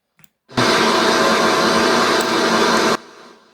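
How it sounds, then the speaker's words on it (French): A loud, harsh, steady roar of a vehicle engine in a Roblox tornado-chasing game bursts in and holds for about two and a half seconds, then cuts off abruptly. "c'est quoi ce bruit de l'enfer de ce véhicule?"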